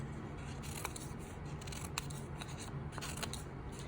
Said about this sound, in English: Notice that I'm snipping